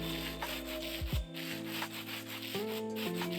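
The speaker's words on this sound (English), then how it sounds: "with the sandpaper, I think I put the item in my offhand and I just right click" Sanding an item with sandpaper in the Minecraft Create mod makes a brief, quiet rubbing scrape, followed by soft tonal game effects.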